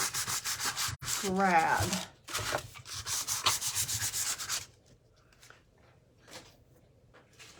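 Rhythmic, raspy strokes of sandpaper rubbing a painted shelf sitter, loud and close, with a brief spoken word partway through, then the scraping fades to sparse, quieter rubs.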